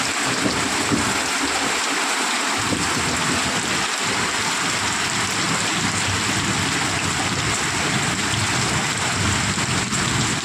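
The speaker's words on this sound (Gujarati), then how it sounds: "ભરપૂર વરસાદ હો ભાઈ." Heavy rain pours steadily over a village and its high school grounds, a dense continuous hiss of drops on surfaces filling the whole stretch at a constant loud level, with no voices.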